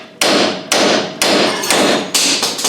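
Five loud, sharp hammer blows knock on a Land Rover 300Tdi front axle shaft at a steady pace, each ringing briefly before the next strike.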